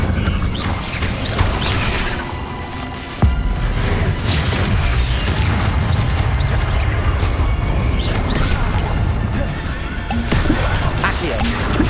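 Fire spells cast in Hogwarts Legacy on PS5 land as loud bursts and booms amid dense, continuous game combat noise, with a sharp impact near the three-second mark and steady clashing throughout.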